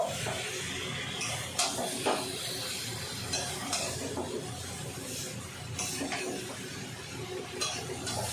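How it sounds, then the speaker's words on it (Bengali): Spice paste being stirred into tender young jackfruit in a pan, with a steady frying sizzle and repeated spoon scrapes and clinks against the metal. "ভালো করে এঁচড়ের সাথে মশলাটা মিশিয়ে দেব।"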